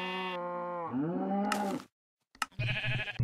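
Cows in the video game Minecraft give two or three drawn-out, close moos in quick succession, broken by a brief silent gap.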